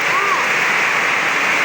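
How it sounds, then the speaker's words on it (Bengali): Heavy rain falls outdoors, pooling around the base of trees: a loud, steady, dense hiss that stays close and constant throughout. "বৃষ্টির কারণে আমাদের গাছের গোড়াতে পানি হইতেছে, জোর পাইতেছে, বৃষ্টি আর বৃষ্টি।"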